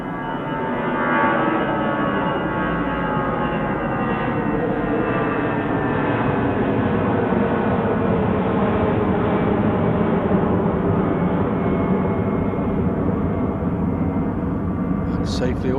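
An airliner takes off at Manchester Airport in icy weather, its jet engines producing a loud, sustained roar that holds steady for the whole stretch, with a faint voice near the end.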